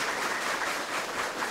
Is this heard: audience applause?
yes